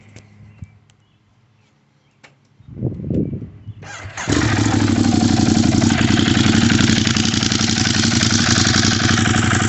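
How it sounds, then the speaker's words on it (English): A Ducati Monster 821 V-twin motorcycle engine cranks and catches after a few faint clicks, then settles into a loud, steady, throbbing idle close to the microphone. "There is nothing that sounds better than a V-twin Ducati."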